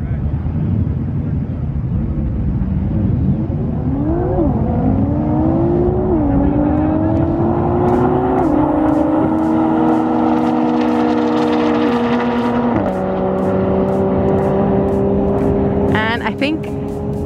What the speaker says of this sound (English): there's a GTR that's going against a 720 and I really want to see this race.